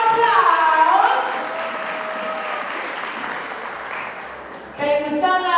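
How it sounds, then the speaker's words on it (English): An audience at an Islamic finance forum applauds someone speaker, a broad steady wash of clapping that fades slightly before swelling again, with a voice talking over it. "Let's give her a round of applause."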